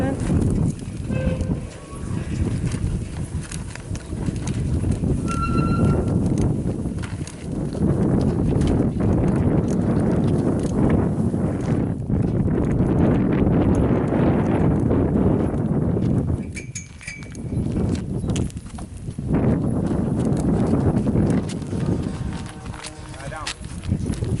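Cattle arriving at a ranch with riders on horseback, a steady clatter of hooves and trampling livestock filling the whole stretch, close and continuous, with voices talking over it.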